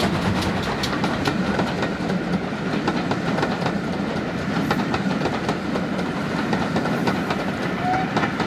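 Great Western Railway 2800 class steam locomotive No. 2807, built in 1905, hauling a train away from Cheltenham Racecourse, a steady rumbling roll with rhythmic wheel clatter and chuffing held at an even, fairly loud level throughout.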